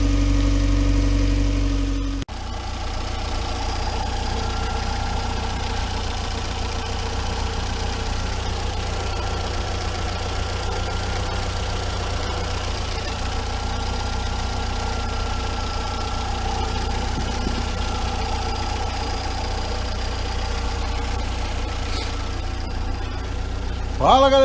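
Volkswagen EA 111 car engine runs steadily with an abnormal knocking noise, a close, even mechanical hum with a faint ticking layer, continuing alone after a short louder sound at the start.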